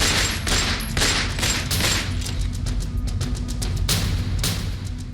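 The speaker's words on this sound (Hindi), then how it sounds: "वहीं काले लिबास पहने अतीक का बेटा असद उमेश पाल पर ताबड़तोड़ फायरिंग करता हुआ दिखाई दे रहा है।" Rapid gunfire during a street shooting in a narrow lane, picked up on CCTV: loud, dense bursts of shots follow one another over a constant noisy background, with no speech.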